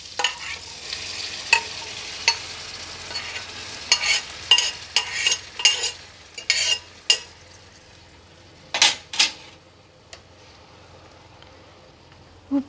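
Cooked mutton and drumsticks stirred in hot oil for a mutton curry: a steady sizzle runs underneath while a spoon scrapes and clinks against the pan in irregular bursts, close and fairly loud, with no talking.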